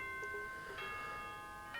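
An announcement chime from the video game Danganronpa plays as a faint, soft tone with sustained ringing notes, followed by a brief bright accent near the end.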